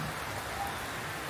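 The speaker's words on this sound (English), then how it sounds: "It's raining quite heavily." Heavy rain pours steadily in Werribee, a dense, even hiss of drops falling on surfaces around an outdoor shelter, loud and constant with no voices.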